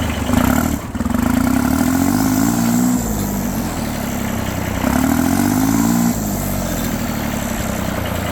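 Turbocharged Kubota B7100 compact tractor diesel engine pulling steadily in third gear, a loud, close, continuous low drone with a brief dip and slight swells in pitch as it gets moving.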